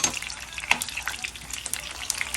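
Food frying in hot oil crackles and sizzles steadily up close, with a sharp pop or two in a home kitchen.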